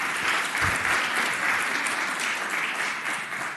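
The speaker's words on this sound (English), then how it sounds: "So you definitely deserve 2 rounds of applause." Dense, sustained applause from a large crowd filling the Virginia Senate chamber, even and loud throughout.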